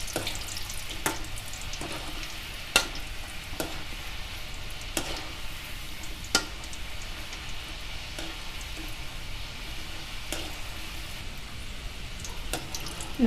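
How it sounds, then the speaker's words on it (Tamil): Potato French fries fry in hot oil over medium heat with a dense, steady bubbling hiss. Scattered sharp clicks from a utensil come at irregular intervals throughout. "போட்டுட்டு நல்லா கோல்டன் கலர் வர வரைக்கும் வறுத்து எடுத்துக்கலாம்."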